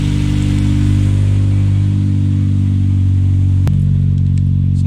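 Toyota Starlet with a turbocharged 4E-FE engine running after a test start, a loud, steady, close idle drone with a low rumble and a slight shift in tone near the end.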